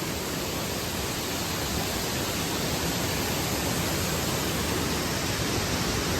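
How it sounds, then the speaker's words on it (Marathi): The Domzira waterfall in Jawhar, Palghar pours in a steady, dense roar of rushing water, loud and unbroken throughout, with no voices. "डॉमजिला वॉटरफॉल 12 महिने वाहणारं वॉटरफॉल."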